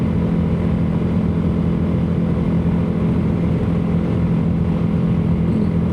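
Royal Enfield Himalayan 450 single-cylinder motorcycle engine holds a steady, loud, bass-heavy induction roar, a continuous droning thump that stays even throughout.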